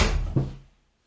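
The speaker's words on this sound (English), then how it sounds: "Close the door here." A door shuts with a short dull thud following a brief shuffle, then the sound fades to near silence.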